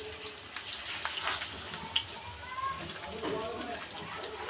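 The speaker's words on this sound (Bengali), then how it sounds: "এই দুটো আমি নিয়ে ফ্রাই করে নিচ্ছি ভালো করে।" Tomato sauce and soy sauce fry in a pan for chilli chicken, giving a soft, steady sizzle with light stirring clatter, quiet and close, while a voice talks over it.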